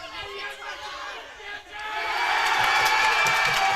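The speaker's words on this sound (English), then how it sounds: "And the crowd goes wild." Spectators at a Mangum vs. Cordell softball game erupt into cheering and shouting, the crowd noise swelling from a quieter murmur into a loud, sustained roar of voices outdoors.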